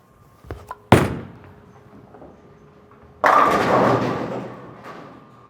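Bowling ball thrown down a lane: a few small knocks, then a sharp heavy thud as the ball is released, and a few seconds later a loud rolling rumble that swells and slowly fades, with no talking.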